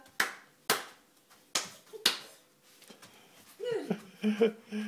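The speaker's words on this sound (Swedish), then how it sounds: "klappa händerna när du är riktigt glad" Hands clap sharply along to a Swedish children's song, five crisp claps in a loose rhythm, followed by singing voices.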